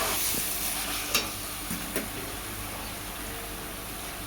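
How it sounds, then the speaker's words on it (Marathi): Egg biryani masala fries in a pan with curd stirred in, giving a steady, close sizzle and hiss with a few soft spoon knocks. "त्यानंतर आता आपण दही टाकून घेणार आहोत. 1-2 मिनिटं परतवते."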